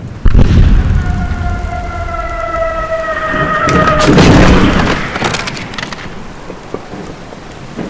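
Heavy cannon fire from a ship booms out in a radio drama: one deep blast opens, followed by rumbling reports and crackling impacts, with a wailing tonal sweep layered over the middle amid dense, stormy background noise.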